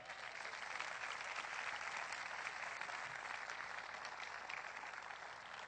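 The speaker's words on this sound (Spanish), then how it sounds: "Denle un aplauso fuerte." A church congregation claps in steady, continuous applause, a dense, even wash of hands heard from within the room at moderate distance.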